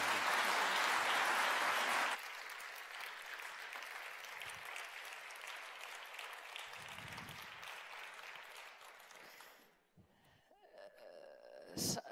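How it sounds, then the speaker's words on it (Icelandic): An audience at a university breakfast meeting applauds after a panel discussion: a loud burst of clapping at first, then a steadier, quieter patter that fades out near the end, followed by a few stray sounds. "Eigum ekki gefa þeim gott klapp."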